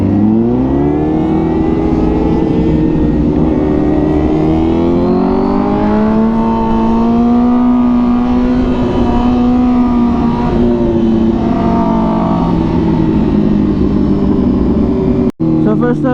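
A Honda RR big bike engine revving hard at full throttle on a ride, a loud, close, rising and falling engine whine that holds for many seconds, with wind buffeting and a rider's voice speaking over it.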